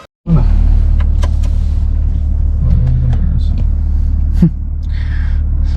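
A BMW G80 M3 drives on a UK road, its engine a loud, steady close-up rumble that holds for several seconds, dips slightly near the end, with faint clicks and small knocks over it.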